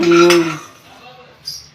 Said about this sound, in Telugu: ఇప్పుడు ఒక గిన్నెలోకి తీసుకో గిన్నెలోకి అయితే తీసుకుంటున్నాం ఇలాగ